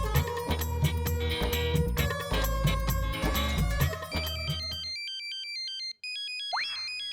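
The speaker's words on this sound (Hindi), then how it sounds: "ये किसका मोबाइल बजा?" A mobile phone rings loudly in an exam room with a busy, beat-driven melodic ringtone. It then switches to a repeating pattern of bright electronic beeps and cuts off abruptly for a moment.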